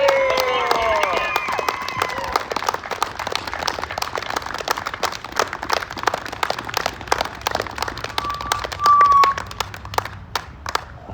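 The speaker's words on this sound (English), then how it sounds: "Let's give a standing ovation right now as loud as you can so people that live on the backside of Wilman Field can hear you clap" A crowd at an outdoor field gives a standing ovation, loud dense clapping with scattered cheers and whistles that carries steadily for about eleven seconds, with voices mixed in.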